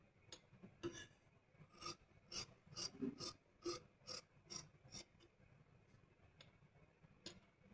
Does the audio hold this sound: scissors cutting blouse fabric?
yes